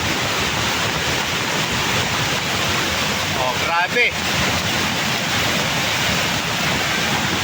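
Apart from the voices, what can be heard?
raging turbulent water flowing down mountain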